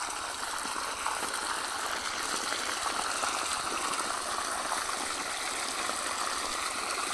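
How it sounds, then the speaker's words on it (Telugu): Canal water runs steadily into a furrow of a papaya field, a continuous near, even rushing and gurgling flow with no breaks and no voices. "ఇట్లా సాలుకు నీళ్ళు వదులుకుంటూ ఉంటాం"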